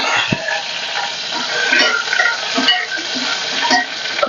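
Curry leaves hit a hot pan of oil while cooking a traditional Satara-style urad dal ghute, giving a steady close sizzle with spatula stirring and a few sharp clinks of metal against the pan.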